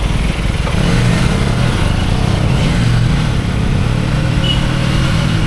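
A motorcycle engine runs loud and close with a steady, throbbing drone and no pauses.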